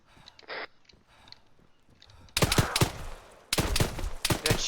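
Rapid gunfire bursts in an Arma 3 firefight in New York, starting with faint distant shots and turning into loud, close, dense volleys of overlapping rounds.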